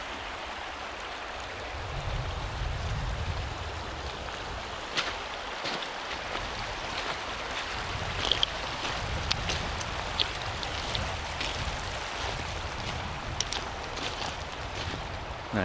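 Murky water flowing in Catherine Creek, heard as a steady, fairly quiet broadband wash with no talking.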